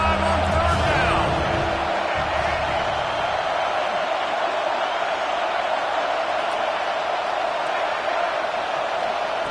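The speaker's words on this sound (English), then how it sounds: "The Buckeye crowd alive on 3rd down." A Buckeye football crowd roars on third down in a game against Miami, a loud, steady wall of stadium noise that carries through the whole stretch, with a brief voice near the start.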